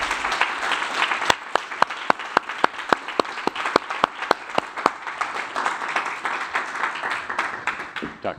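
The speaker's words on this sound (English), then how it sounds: "Give them a round of applause." Audience applause for doctors at a World Diabetes Day event, a dense steady wash of many clapping hands with a few sharper individual claps standing out, sustained throughout and fading slightly at the end.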